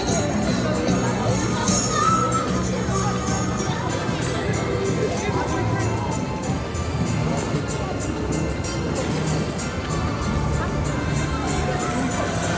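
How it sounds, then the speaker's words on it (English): Dense crowd hubbub on Christmas Day in Manhattan, a continuous wash of many voices, footsteps and street noise mixed with wind, close and steady with nearby speech. "look at all of the crowds here"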